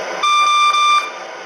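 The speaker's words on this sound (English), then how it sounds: "the reverse signal," An MTH RailKing CTA 3200 Series model subway train sounds its reverse signal, a single sustained electronic beep slightly longer than a second with a brief dip midway, rising above a steady background hum.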